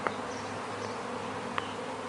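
A swarm of honeybees buzzes around a maple tree outdoors, a steady, fairly faint continuous drone with no talking.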